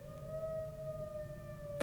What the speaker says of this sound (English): oh my god, is that the tornado sirens?